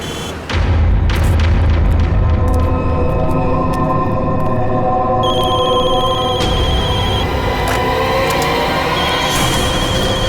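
Telephones ringing from many incoming calls in a CID television drama scene, a loud steady ringing tone layered over a heavy rumbling boom and dramatic background score, with no talking.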